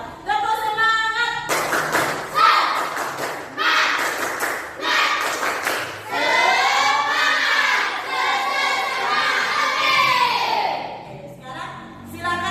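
A classroom of students performs a rhythmic spirit clap, bursts of clapping in patterned groups with shouts and crowd voices mixed in, loud and close, ending in a final flurry.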